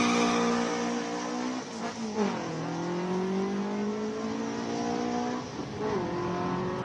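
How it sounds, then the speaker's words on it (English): A V8 Piranha, a South African special, revs at a Cape Town classic car speed event. Its engine drone is sustained and mid-distance, with pitch rising and falling through several revs and no voices over it. "Next up, we're going to have a big V8 Piranha, another South African special"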